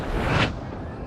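A single heavy cannon shot booms in Total War: Napoleon at the Battle of Waterloo, a loud deep blast with a sharp crack that quickly fades into a rumbling tail.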